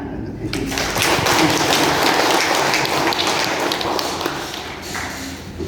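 Applause from a seminar audience at a Cilacap regional hospital event on HIV/AIDS, a dense burst of clapping that swells in after a moment, holds steady for several seconds, then gradually thins out.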